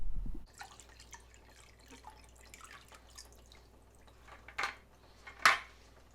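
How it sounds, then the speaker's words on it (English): Water trickling and dripping through a homemade bucket filter, faint irregular drips and small splashes in a quiet space, with a few sharper drops near the end. "water through here and just let it drip through the system just to make sure everything's working correctly"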